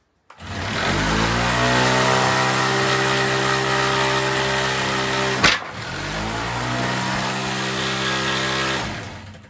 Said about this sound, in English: Now, if I power on the flywheel